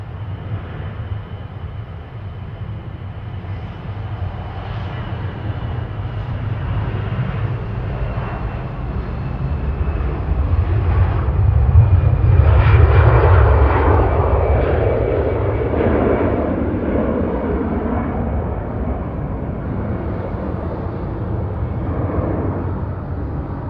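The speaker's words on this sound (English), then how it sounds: "on the roll we have got EasyJet TT012 Berlin, GZUC, A320 Classic on the roll" EasyJet Airbus A320 Classic rolling down the runway for takeoff at Manchester Airport, a distant jet engine roar building to a loud peak mid-way and then easing off, with no talk over it.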